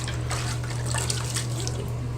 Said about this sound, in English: add a little bit of water to my face here